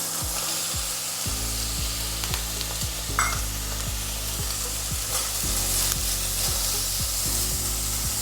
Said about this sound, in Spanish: Vuelven a dar calor humeante al wok e incorporan pimientos y cebolla.